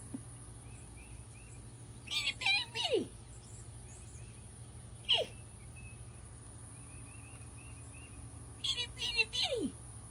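A pet bird gives a few short bursts of chirps and descending squeaky calls, faint and spaced apart over a steady low hum indoors.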